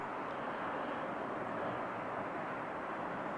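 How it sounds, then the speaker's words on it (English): A jet aircraft flies low overhead through clouds near a highway, producing a faint, steady broadband roar that holds evenly throughout with no speech. "Look at this jet swinging around."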